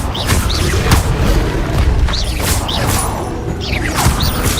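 Repeated booming blasts from the Confringo fire spell in Hogwarts Legacy, loud and continuous with rumbling impacts, swooshes and mechanical clatter, no speech.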